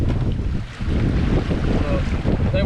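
Big waves and strong wind battering a solo canoe on open water during a camping trip in high winds, a loud steady roar of gusts buffeting the microphone with churning water sloshing underneath and no talk.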